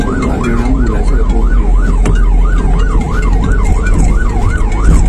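An ambulance siren wails loud and close in city traffic, a steady rising-and-falling cycle repeating about every half second over engine rumble.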